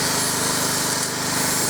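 A wire brush, likely power-driven, scrubs the bolt heads on the hydraulic tank of a 1970 Caterpillar 951, making a loud, continuous grinding buzz with a fast, steady pulsing underneath and no pauses.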